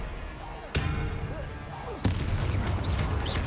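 Spell effects from the Hogwarts Legacy video game: two sharp, loud blasts like gunfire or explosions, spaced about a second apart, each trailing into rumbling noise and whooshing tones, with a voice speaking over it.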